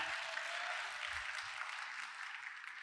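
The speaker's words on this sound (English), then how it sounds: "You guys can clap" An audience at a San Francisco film screening claps steadily for a Tibetan rock and metal musician, a faint even patter of applause.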